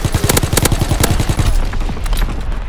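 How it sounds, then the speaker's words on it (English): Enemy artillery barrage in Call of Duty: WWII multiplayer, a loud rapid burst of overlapping detonations and gunfire pounding in quick succession, then tapering into rumbling booms. "Incoming enemy artillery!"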